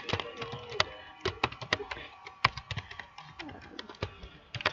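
Quick, irregular clicking of keys on a computer keyboard, close and crisp, with faint background murmur.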